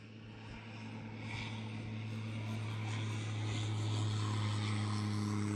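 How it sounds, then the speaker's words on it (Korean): A propeller airplane passes overhead at Lake Macquarie during early-morning fishing, its steady low engine drone with strong humming tones swelling gradually louder through the clip, no talking. "저거 뭐야? 비행기야?"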